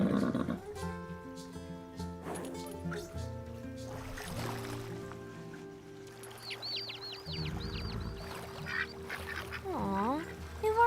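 Baby ducklings being released outdoors near water give soft quacks and high, rapid peeping calls, mixed with people's voices and a short musical score.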